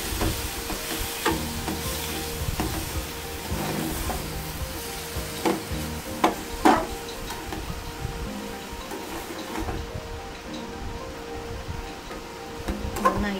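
Beef pepper fry stirred in a hot pan, a steady close sizzle and hiss with irregular scraping and clinks of the spoon against the pan running throughout, a few sharper knocks in the middle.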